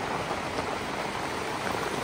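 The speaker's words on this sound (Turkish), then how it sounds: "Bu sefer de kuzu dişi yağıyor" Hail falls outdoors as a dense, even hiss of countless small impacts, steady and fairly close, with no talk.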